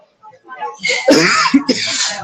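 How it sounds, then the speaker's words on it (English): A couple of sharp, close coughs or sneezes burst out after a quiet start, followed by a voice speaking briefly. "sorry for the coughing"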